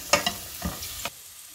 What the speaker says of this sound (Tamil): மஷ்ரூம் இப்போ போட்டுடலாம். ஸோ இதை நல்லா ஃப்ரை ஆகணும்.